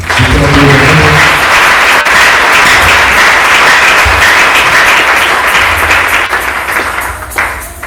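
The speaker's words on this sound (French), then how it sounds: "Acclamez le Seigneur." A church congregation applauds loudly and steadily during a French-language worship service, dense clapping sustained for several seconds before tapering slightly at the end, with some voices mixed in.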